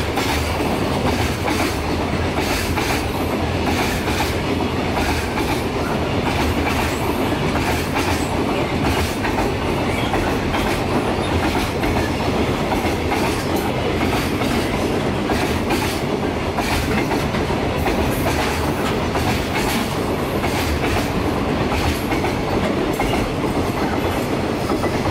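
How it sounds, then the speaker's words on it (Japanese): JR freight trains pass at once on the Tokaido line and the Osaka freight terminal branch, three sets together. The heavy, continuous rumble carries wheel clatter throughout at close range. "東海道本線を走る貨物列車と支線である大阪貨物ターミナル線を走る貨物列車が同時に3編成通過する少しだけレアな映像"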